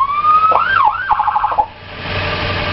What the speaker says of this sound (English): All the siren features are working.